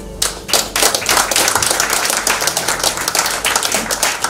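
Crowd applause at a charity peace football match in Goma, a dense, loud wash of clapping hands that carries on steadily without a break, with no voices standing out above it.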